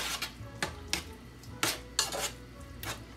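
A spoon stirs and scrapes beef mixture in a pan for a taco casserole, giving a series of sharp metallic clanks and clinks at an irregular pace over quiet background noise, with no talking.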